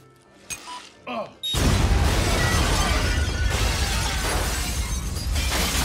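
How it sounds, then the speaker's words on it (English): Grenade explosion in the 2004 film Punisher: a few quieter clatters, then a sudden loud, broad blast at about a second and a half that keeps roaring and rumbling with debris to the end. "He's gonna throw a grenade in there or something."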